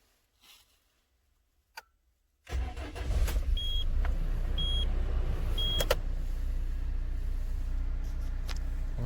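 A car is started after a few quiet clicks, and the engine catches at once and settles into a steady idle. Faint ticking and an electric whine are heard over the running engine.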